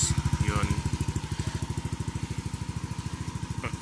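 A Yamaha Aerox 155 scooter fitted with an Exos X-6 exhaust pipe idles close by, its deep exhaust thumping in a fast, steady, even pulse that stays level throughout.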